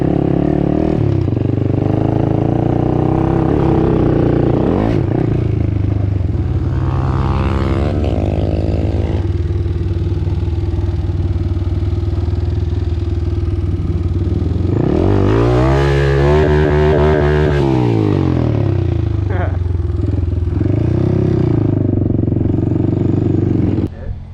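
Dirt bike engines rev and rise in pitch near a practice lot, with a strong throttle sweep around the middle and a steady drone throughout, while people talk over the noise.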